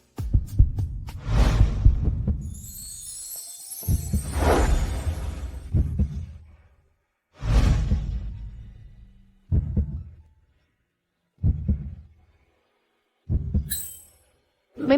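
Fast heartbeat sound effect, loud deep thumping beats in quick pairs at first, then slowing into evenly spaced single throbs with short silences between, alone without talk.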